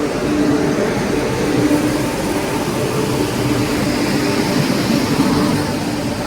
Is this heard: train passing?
yes